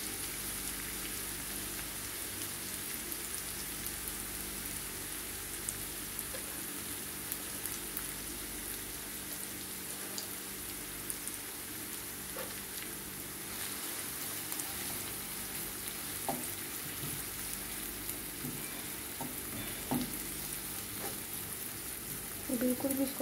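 Onion sautéing in three tablespoons of oil for red sauce pasta: a faint, even sizzle like light rain runs throughout, with occasional soft clinks of a spoon against the pan.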